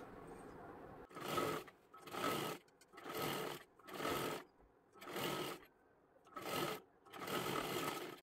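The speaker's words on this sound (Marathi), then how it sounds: "आता इथे आपल्याला अजून एक डबल शिलाई त्याच्यावरती मारून घ्यायची आहे" A sewing machine stitching a double seam on a blouse runs in seven short, even bursts of rapid stitching with brief pauses between them, close and clear with no talk.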